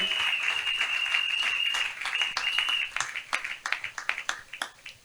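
A church audience applauds and cheers for a prophet, with dense clapping near at hand, a high sustained cheer or whistle over the first seconds, then the clapping thins into scattered claps as it fades.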